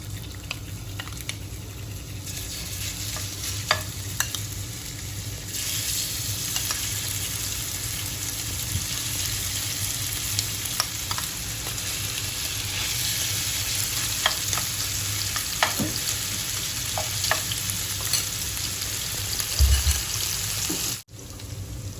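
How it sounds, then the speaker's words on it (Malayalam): Marinated chicken fries in hot sunflower oil with a steady, close sizzle and crackle, punctuated by occasional clinks and stirring taps, continuing unbroken for over twenty seconds before a brief cut near the end. "അപ്പോൾ അതിലേക്ക് നമുക്ക് നമ്മൾ നേരത്തെ മാരിനേറ്റ് ചെയ്ത് വെച്ച് ചിക്കൻ ഇട്ട് കൊടുക്കാം."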